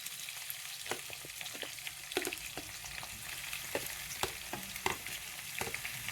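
Chopped onions frying in hot oil in a pan at home, a soft continuous sizzle with irregular light clicks and scrapes of stirring close by, quiet overall and without speech.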